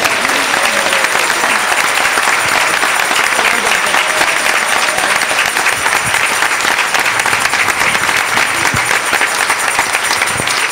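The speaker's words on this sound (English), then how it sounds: "And let's give her a round of applause." Sustained, dense audience applause at a church service, loud and steady clapping from many people filling the whole stretch.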